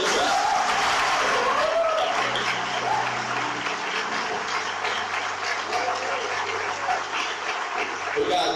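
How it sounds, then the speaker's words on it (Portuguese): A church congregation applauds continuously, with dense, steady clapping filling the room, and voices are heard under it. "Você pode aplaudir mais uma vez, Senhor Jesus?"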